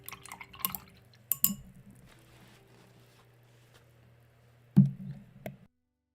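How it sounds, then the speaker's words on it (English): Water splashing onto a shirt during a drink: a short, fairly loud wet burst late in an otherwise quiet stretch, with a few faint clinks and rustles earlier and no talking. "I just spilled water all over myself."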